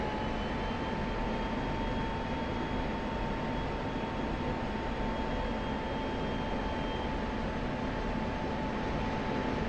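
Fighter jet engine in the DCS flight sim, a loud, steady, unbroken roar with a constant whine throughout, no voices.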